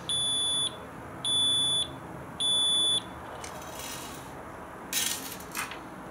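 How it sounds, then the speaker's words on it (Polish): A DBGB-04 radiation dosimeter with two SBM-20 Geiger tubes sounds a high electronic alarm of three long beeps in an even rhythm, followed by faint handling and rustling noises. "więc włącza się alarm"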